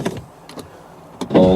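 A Mercedes CLK 500's rear power windows whir down in a steady electric motor hum, with a couple of short clicks and a thump as the travel ends.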